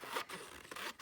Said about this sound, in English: I'm just going to cut a couple strips.